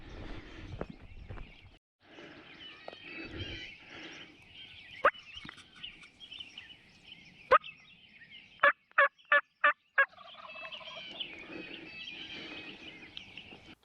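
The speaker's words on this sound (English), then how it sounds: "We had some gobbles out to the west" A wild turkey gobbles in the distance during a Kansas turkey hunt, a few rattling bursts against quiet outdoor ambience, followed by a series of sharp clicks close by.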